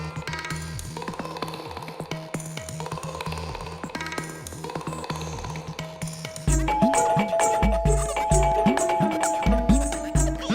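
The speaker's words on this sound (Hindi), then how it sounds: "फायर ब्रिगेड की घंटी की तरह क्या टनन टनन बेल बजा रहे हो लगातार?" A doorbell is rung over and over in quick, insistent bursts, loud and close, with a busy clanging ring layered over background music.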